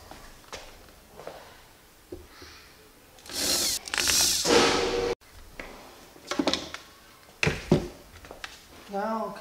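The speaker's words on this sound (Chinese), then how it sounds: "是，然后开始打孔。" A power drill bores holes into a door panel for a gas spring lift mechanism in a few short bursts, the longest a loud whine lasting over a second, with quieter workshop handling noises in between.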